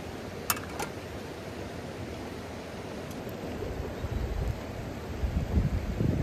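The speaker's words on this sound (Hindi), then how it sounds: "हवा बहुत तेज चल रही है" Strong wind blows outdoors at a jungle campsite. It makes a low, rushing roar that buffets the microphone, grows gustier toward the end and has no talk over it.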